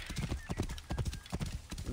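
Horse hooves clip-clop at a steady, rhythmic pace in Assassin's Creed Origins, each strike close and distinct, with a brief whinny mixed in.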